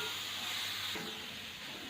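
Chicken and vegetable filling frying over high heat in a pan, a steady broad hiss of steam and sizzle that runs on without a break and softens slightly partway through.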